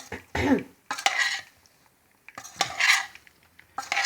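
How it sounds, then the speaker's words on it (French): Boiled potato salad with lardons is mixed in a bowl with a utensil, giving several bursts of scraping and clinking strokes separated by short pauses, close up with no speech. "Bien comme il faut, bien mélanger pour que tout soit bien réparti."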